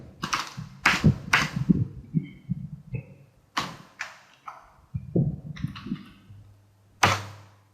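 Keys on a computer keyboard are tapped out in short, close bursts of clacks and thunks with gaps between them while an IP address and port number are entered for a Netis router.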